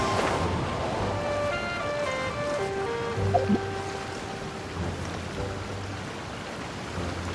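Heavy rain falls in the Genshin Impact video game, a steady wash of hissing noise that continues throughout while soft musical tones ring out over it, with no speech.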